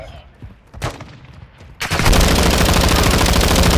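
Video game gunfire starts abruptly after a quieter stretch with scattered sounds and a couple of shots, then becomes a loud, dense, continuous burst of automatic fire up close.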